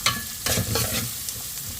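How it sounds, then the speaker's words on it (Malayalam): Curry leaves and spicy chili powder sauté in a pan, a soft continuous sizzle punctuated by close scraping stirs of a spoon. "ഒന്നുകൂടെ അങ്ങ് വഴറ്റാം"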